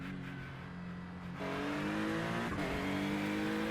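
GT3 race car in the iRacing game at Daytona, its engine idling low and then revving up sharply into a loud, rising drone with a quick upshift, close and alone without speech.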